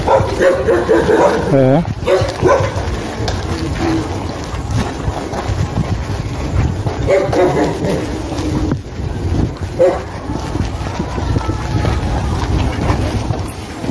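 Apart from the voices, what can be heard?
dog barking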